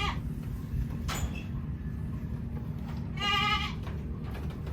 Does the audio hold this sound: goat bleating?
yes